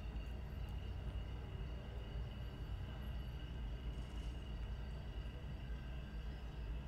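A train in an online video game rolls along with a steady, loud rumbling drone and continuous rail noise, heard alone without talk.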